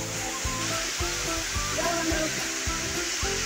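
Lauke waterfall near Kathmandu roars as a continuous broadband rush of falling water, steady and close, with faint irregular knocks and movement beneath it.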